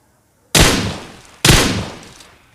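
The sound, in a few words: gunfire in the video game PUBG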